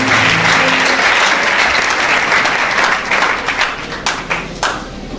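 A church congregation applauds during a sermon on the Way of the Cross: dense, loud, sustained clapping that thins slightly toward the end, with no voices over it.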